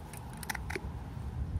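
A blade snips through a Paulownia tomentosa (empress tree) root cutting, giving a few quick, close, crisp cutting clicks over a quiet outdoor background.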